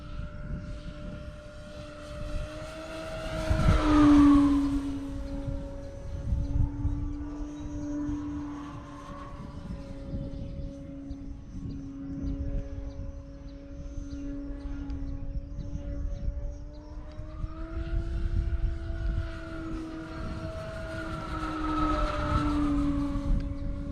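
A high-pitched electric motor whine from a Decathlon 40 model plane on 6S power with a high-KV motor, rising and falling in pitch as it passes, loud with a steady droning tone throughout.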